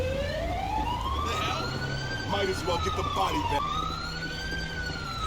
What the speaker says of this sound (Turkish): Şu benim sireni bir kapatayım